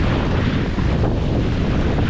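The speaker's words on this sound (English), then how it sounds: "What a gust." Strong wind gust roars across the microphone aboard a Hobie Getaway catamaran sailing on Mission Bay, a steady loud broadband rush with water wash beneath, no talking.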